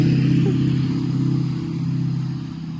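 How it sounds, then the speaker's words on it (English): A loud diesel truck rumbles nearby with a heavy, steady engine drone that swells slightly and eases off as it goes by, with no speech. "Diesel trucks, man, you got to get me one loud."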